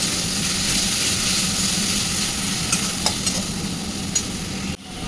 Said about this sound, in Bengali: ভালো করে ভালো করে মশলাটা কষিয়ে নিতে হবে।